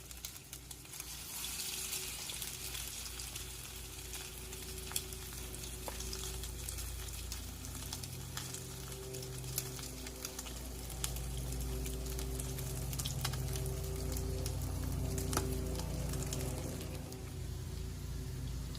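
Breakfast food frying in a hot pan, about eight pieces laid in together, gives a steady, dense sizzle and crackle that runs unbroken throughout, with no talking.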